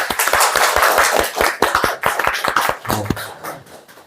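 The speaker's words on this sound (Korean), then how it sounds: "격려와 응원의 박수를 한번 서로에게 하겠습니다" A church congregation at a Sunday morning service claps together in encouragement, a dense run of sharp, close hand claps that loosens and thins toward the end.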